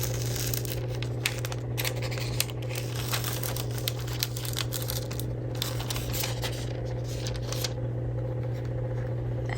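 Foil is peeled from a foiled Christmas card in crackly, crinkling bursts over a steady low hum, close up and continuous.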